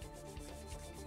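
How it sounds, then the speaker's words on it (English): A rag rubs wax onto a fibreglass mould, a faint rhythmic rubbing swish repeating in quick strokes, quiet and close with no talk. "So there we are, just applying the wax."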